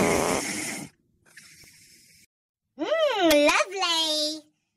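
Someone makes loud snoring noises: a raspy snore burst, a fainter breath, then nasal, voice-like snorts and groans, close and strong.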